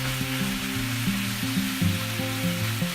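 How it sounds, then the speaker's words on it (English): Two pounds of pork breakfast sausage fry in a pan, a steady sizzle and crackle running throughout, with a soft tonal hum underneath and no one speaking. "The next step is the pork sausage, 2 pounds of breakfast sausage. We have to fry that until it's fully cooked."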